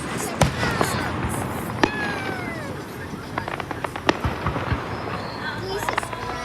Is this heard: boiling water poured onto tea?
no